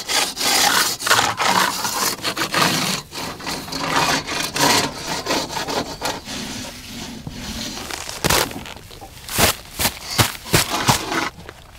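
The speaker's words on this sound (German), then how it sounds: "Wenn's getrocknet ist, stößt du überstehende Kanten mit dem Rabot ab." A rabot plaster planer scrapes protruding plaster edges off a facade repair, giving repeated rough rasping strokes close up, with a few sharp scrapes near the end.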